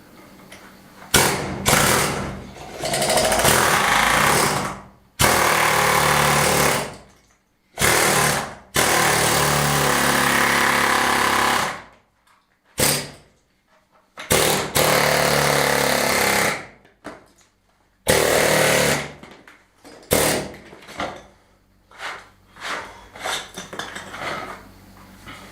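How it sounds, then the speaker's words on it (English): Pneumatic air hammer chiselling into the old wall of a 150-year-old Spanish finca to cut wiring channels, driven by a running compressor: loud, harsh rattling bursts of several seconds each, broken by short pauses, close to the microphone. "So I've got the air hammer, I've got my gloves, the compressor's plugged in."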